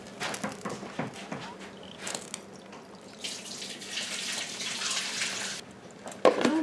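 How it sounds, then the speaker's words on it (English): Leftover liquid from canning bell peppers and Vidalia onions is poured through a small scoop into a kitchen sink, a steady close splashing and trickling stream that swells for a few seconds, then tapers to a clunk. "let me go over here to the sink, pour the rest through my little fancy scoop"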